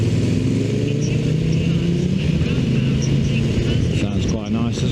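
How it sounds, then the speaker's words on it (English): A hot rod car engine passing close by, a loud deep rumbling exhaust with steady low throb and rising revs near the end, heard outdoors. "Now that is a cool hot rod."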